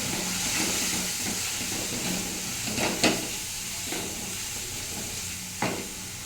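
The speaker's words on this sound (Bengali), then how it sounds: "টমেটোটা কষে গেছে, এবার এর মধ্যে দেব নুন, হলুদ, জিরার গুঁড়ো দিয়ে আবার ভালো করে কষবো।" Tomato being stir-fried with salt, turmeric and cumin powder for a Bengali kachkola bora curry: a steady close sizzle and steam hiss, with occasional sharp spatula scrapes against the pan.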